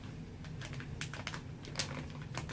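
Knife cutting a piece of date in a bowl while making vegan energy balls, a close run of soft irregular clicks and taps against the container, no talk.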